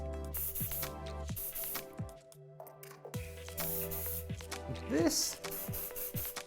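Hairspray hisses in several short bursts against a constant background drone while curled hair is set into soft waves, with brief speech in between.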